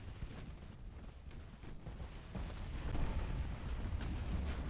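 Warship secondary guns fire in the naval video game Ultimate Admiral: Dreadnoughts, a dense rumbling barrage of muffled booms and bursts that builds louder midway, with no voices.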